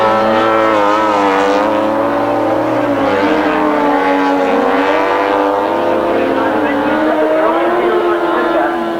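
Grasstrack racing motorcycles at a 1993 meeting roar down the back straight, their engines blaring loud and sustained with rising and falling pitch, while a commentator talks over the noise throughout.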